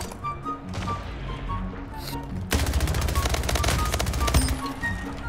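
Rapid automatic gunfire in the arena shooter Splitgate breaks out midway, a dense rattling burst of shots following quieter game sounds and some chatter.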